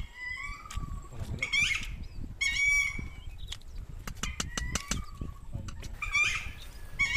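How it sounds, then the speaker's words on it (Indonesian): Loud, repeated calls of maleo birds on a remote island, several bursts of rapid chattering notes spread across a few seconds, heard nearby over an ambient outdoor background. "Burung maleo itu."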